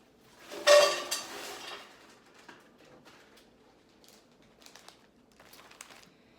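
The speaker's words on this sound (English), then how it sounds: "Just gonna put these into a stock pot." Frozen vegetable scraps tumble into a stock pot with a loud, brief clatter and crinkle, followed by a few faint scattered knocks and rustles in an otherwise quiet kitchen.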